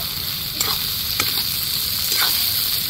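Sliced onions fry in oil in a pan with a steady, loud sizzle, and a spatula scrapes through them about three times, with no talking.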